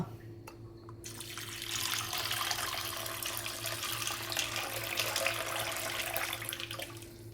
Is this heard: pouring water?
yes